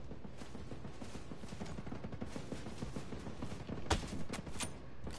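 Sustained gunfire in the video game Ghost Recon Breakpoint: continuous rattling shots and battle noise throughout, with a louder burst of nearby shots near the end.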